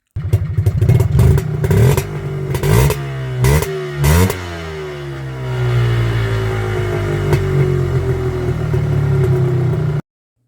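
A 2000 Polaris Trailblazer 250 with an RCR pipe and muffler fitted blips its throttle in several loud, close revs, then holds a steady, slowly falling drone for several seconds before cutting off abruptly.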